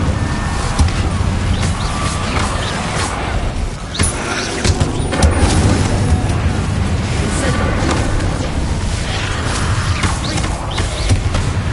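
Repeated Bombarda and Confringo blasting spell explosions in the Hogwarts Legacy video game, loud booms bursting again and again through a thick, continuous bed of battle sound, with a voice talking over them.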